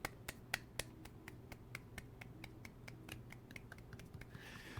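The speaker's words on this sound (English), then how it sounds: "Everybody golf clap." Quiet golf clapping from a small group of players, a soft, sparse series of light claps spaced unevenly over a few seconds against a faint background hum.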